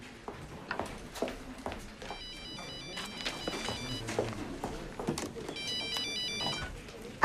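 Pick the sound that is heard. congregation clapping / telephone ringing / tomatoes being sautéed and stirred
telephone ringing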